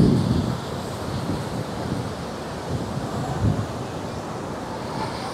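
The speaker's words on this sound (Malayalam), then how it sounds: "മാർബിൾ റോസ് വെള്ളച്ചാട്ടം" Marble Rocks waterfall in Jabalpur, a steady broadband roar of falling water mixed with wind buffeting the microphone, continuous and fairly close.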